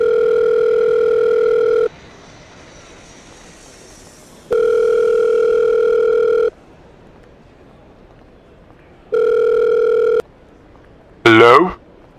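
A phone's ringback tone sounds loud and close during an unanswered call: three long steady purrs, each about two seconds, separated by silent gaps, ending in a brief warbling chirp.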